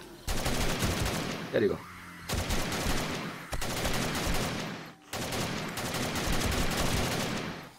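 Rapid gunfire in the 7 Days to Die video game, Alpha 18, comes in dense repeated bursts with brief pauses between them, loud and close, with someone talking over it.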